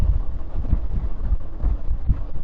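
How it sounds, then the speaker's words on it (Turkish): Strong wind buffets the microphone in low, rumbling gusts while riding a Peugeot XP 400 motorcycle, a heavy pulsing roar with no voices. "Allah'ım bu ne rüzgar ya"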